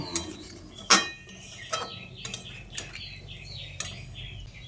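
A spoon clinks and scrapes against a pot while stirring raw jackfruit and potato curry after hot water is added, with a handful of irregular metallic taps over faint, wet stirring.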